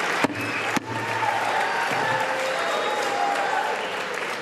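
Loud, sustained applause from a large crowd at the congressional certification of the electoral votes, with a couple of sharp knocks near the start and a dense clatter of clapping throughout.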